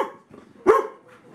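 A dog on a cold morning lets out one sharp, close bark in the middle of a short stretch of quiet, with faint low sounds around it.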